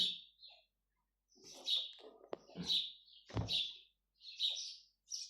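Small birds call in a village in clear repeated chirps, with a few sharp knocks and a quiet rustle between them.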